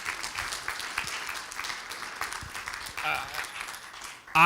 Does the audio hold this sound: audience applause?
yes